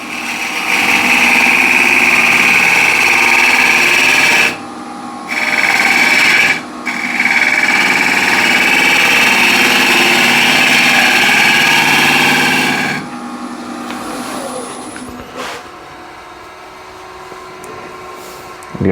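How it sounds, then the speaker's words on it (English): Steel being sharpened on an 80 grit CBN grinding wheel gives a loud, steady whine and hiss, briefly dipping twice as contact breaks, then tapering into the spinning wheel's softer hum. "And this is now 80 grit CBN wheel."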